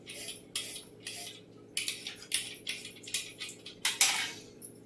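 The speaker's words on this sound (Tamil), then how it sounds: "நான் ரெண்டு கேரட்டை சீவிக்கலாம்" Carrots are grated for dosa in a rhythmic series of about a dozen scraping strokes, close and fairly clear, with short pauses between runs.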